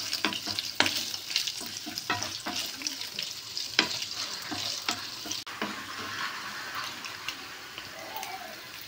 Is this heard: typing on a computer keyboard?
no